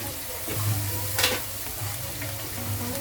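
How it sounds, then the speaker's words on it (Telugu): Masala of ginger-garlic paste and onion for brinjal curry frying in a pan, a soft steady sizzle with a brief louder burst of stirring partway through, no talk. "బాగా ఫ్రై అవ్వాలన్నమాట, పచ్చివాసన పోయినంత వరకు"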